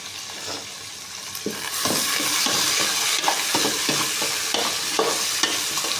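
Onions tipped into hot oil with browned garlic while fish is being cooked, giving a steady loud sizzle with scraping stirs of a spoon through the pan across several seconds, no voices.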